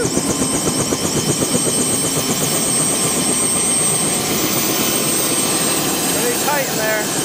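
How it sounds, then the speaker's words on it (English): A helicopter's engine roars loudly with the rapid, pulsing thump of its rotor, close up and continuous, with a voice briefly audible near the end. "it's important for Corinth 1121 and you tubers to go on a helicopter ride"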